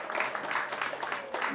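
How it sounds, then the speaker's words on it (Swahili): Applause from an audience at a Kenya Prisons women's staff excellence awards ceremony as an award recipient is called up: a steady, fairly faint wash of clapping lasting about a second and a half. "Wapi makofi yake?"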